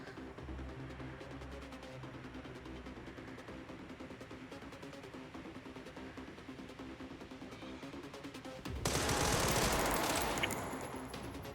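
Rapid, dense gunfire from enemies in the video game Resident Evil Requiem, a steady crackling barrage that swells into a loud, harsh burst near the end, with no talking.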